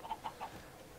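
Chickens in the Minecraft video game give three quick, soft clucks within half a second, faint and close together, followed by quiet.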